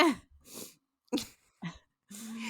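A close run of sneezes and breathy gasps from someone sneezing in cold weather, about five short bursts spaced unevenly with brief silences between them, the last one drawn out with a voiced edge.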